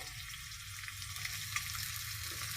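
Potatoes and radish frying together in a pan for a spinach dish, a soft, steady sizzle with light stirring and a small tap partway through.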